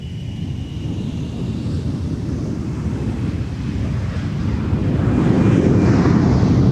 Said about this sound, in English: Here's our Gulfstream departure on 12 right